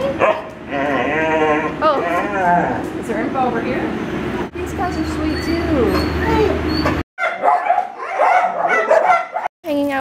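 Dogs at an animal shelter bark, yip and whimper repeatedly and loudly at close range, overlapping with people talking and cooing throughout.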